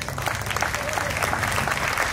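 An audience applauds at a comic poetry gathering: dense, continuous clapping from many hands fills the room at a moderate level throughout, with faint crowd murmur underneath.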